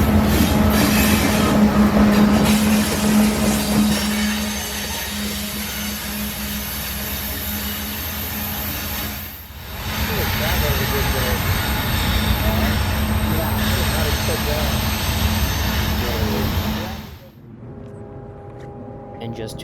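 A freight train rolls past with a freshly rebuilt CM44AC locomotive as rear DPU, loud continuous rumble and clattering wheels with a squealing tone early, ending abruptly as the last cars clear, a voice talking over parts of it.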